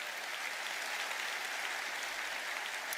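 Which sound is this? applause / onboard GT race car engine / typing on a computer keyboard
applause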